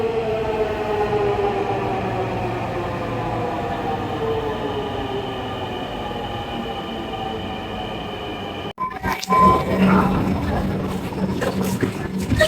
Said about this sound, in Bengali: বলতে না বলতেই আমাদের মেট্রো রেল চলেই আসলো।